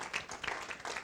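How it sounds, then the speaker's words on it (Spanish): Brief burst of audience applause at a church gathering, a steady wash of many hands clapping at moderate volume for about a second. "Un aplauso por favor a Benji."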